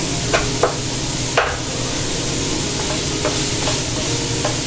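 Onions with salt sautéing in a pan, a steady soft sizzle running throughout with a few sharp spatula scrapes and taps against the pan, fairly close, with no voices.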